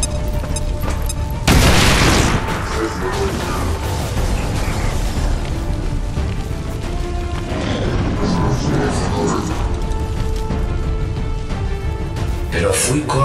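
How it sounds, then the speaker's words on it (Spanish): A grenade detonates in XCOM 2, a sudden heavy boom that rolls and decays over a couple of seconds, set against continuous game music, ambient rumble and spoken dialogue. "¡Granada va!"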